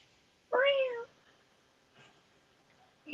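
A person mimics a cat's meow in one short, clear, rising-and-falling call close to the microphone, followed by faint background noise and a brief murmur.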